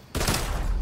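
Dual pistols fire in Fortnite, a loud burst of rapid gunfire that starts abruptly and runs on steadily to the end.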